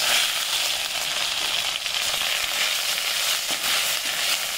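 Cumin seeds and onion paste fry in hot mustard oil for a vegetarian egg posto dish, making a loud, close, continuous sizzle and crackle with no voices.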